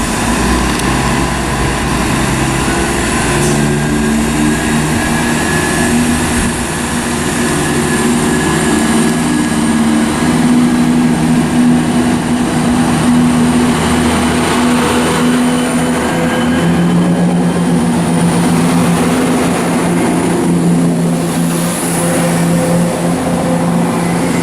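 ScotRail train 17403 departing Linlithgow for Edinburgh, a loud sustained engine drone and rumble with steady tonal whine and wheel noise building as it pulls away.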